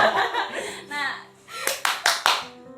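During the tepuk nyamuk clapping game on a talk show, four sharp, close hand claps ring out in quick succession, following voices and laughter.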